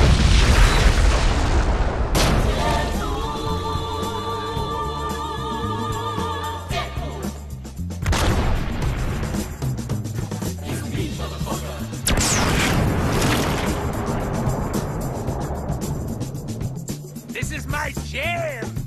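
Explosions blowing up the Death Star in a film, deep rumbling booms and bursts that swell over a dense, continuous mix of music and effects.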